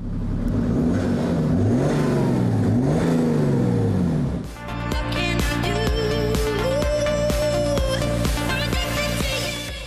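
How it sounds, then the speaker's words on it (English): A BMW 640d diesel car engine revving as it accelerates, a loud, close rising drone with pitch sweeps, then a cut and a higher, steadier whine with rapid clicking ticks. "one drawback of the 640D is that its engine doesn't sound good"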